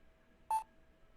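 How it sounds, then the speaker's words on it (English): A single short electronic beep tone from the Phoenix Wright Trilogy video game sounds once, clean and isolated against near silence. "Beep, beep, beep."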